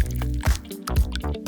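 Wasabi paste squished and dropped into a mystery drink, a quick series of wet, sticky splats and drips heard up close and fairly loud.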